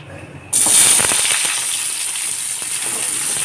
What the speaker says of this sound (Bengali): মাছ ভাজার তেলেই পেঁয়াজটাকে ফোড়নে দেব